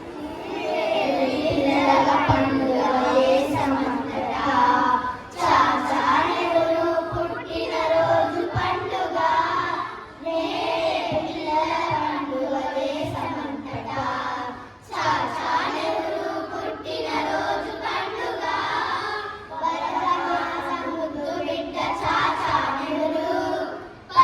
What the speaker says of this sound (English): A big hand clap for all these singers.